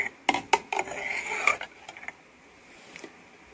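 Cashew apple wine mix with wheat and yeast being stirred in a container, giving several sharp close clinks and scrapes of a utensil against the vessel, then a quieter stretch with faint scraping.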